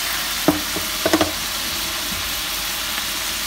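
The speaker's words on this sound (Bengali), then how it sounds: "সুন্দর করে মাছটা কিছু কষায় নিচ্ছে।" Fish sizzling and being stirred in oil in a pan, with a few sharp spatula clinks and crackles over a steady low frying hiss, close and moderately loud, no talking.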